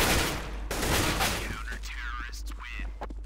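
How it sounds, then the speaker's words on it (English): A player fires an AK rifle in a Counter-Strike 1v1 tournament match. A dense burst of gunfire comes first, then thins into scattered shots, with game noise over a steady low hum. "Oh, Force with the AK on 10 HP"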